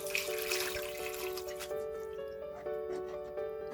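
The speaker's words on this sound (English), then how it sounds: "we're going to put the peanuts and add 3 cups of water" Water splashes and pours into a pot of peanuts for a couple of seconds, then trickles more quietly, with steady musical tones underneath.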